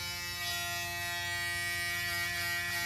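An electric shaver buzzes steadily and closely during a skin fade haircut, a continuous even hum with no pauses.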